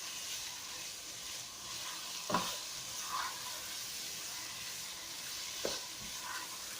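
Carrot halwa roasted in ghee over full heat, giving a soft continuous sizzle with a few sharp scraping stirs spaced apart, no voices.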